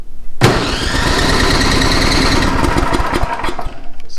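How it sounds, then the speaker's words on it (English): An electric starter cranks a snow blower engine, with a compression tester fitted, beginning with a sharp click and then a loud, continuous mechanical churning up close that runs several seconds before slowing and faltering. "I'm going to use the electric starter"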